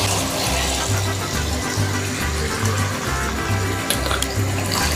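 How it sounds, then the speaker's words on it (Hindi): Water is poured steadily into a pan of fish curry masala, two glasses' worth, making a continuous loud splashing rush for the whole stretch, with a low repeating hum underneath. "इस पॉइंट पे 2 गिलास पानी ऐड करूँगी।"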